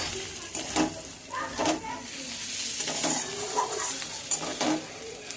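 A spice mixture for tadka being sautéed in a pan over low gas, with a close, steady sizzle and several soft scraping stirs, and a faint voice underneath.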